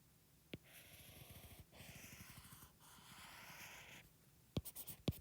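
A pen scratches steadily across paper while a triangle is drawn, in soft close strokes with short pauses, ending in a few sharp taps.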